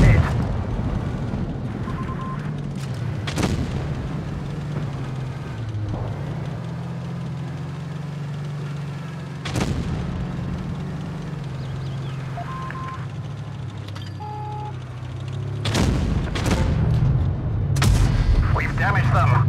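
Tank cannon shots landing on enemy armor in the WoT Blitz game, with several sharp booming impacts spaced seconds apart over a steady low engine rumble.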